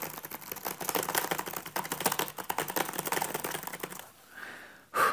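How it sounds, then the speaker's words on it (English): Rapid bursts of clicking keystrokes on a computer keyboard, close and fairly loud, running steadily and then stopping with a final clack. "hold on a few seconds while I type up a quick example"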